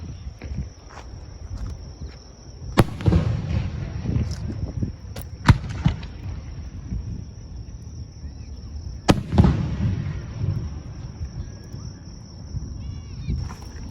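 Fireworks burst directly overhead during a fireworks relay, heard from beside a campfire: several sharp, loud cracks spaced seconds apart, each trailed by rumbling crackle, over a steady background hum.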